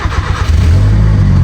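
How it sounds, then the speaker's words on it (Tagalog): An old car's engine cranks and catches after a trip to Baguio, settling into a loud, close, rough idle with a low steady rumble. "First start ng ating 20 na kotse after our Baguio trip."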